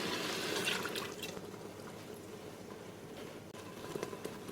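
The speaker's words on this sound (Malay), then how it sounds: "Kita masukkan santan" Coconut milk poured into a cooking pot for Arab mandy rice, a steady liquid trickle and splashing lasting throughout at close range, with no talking.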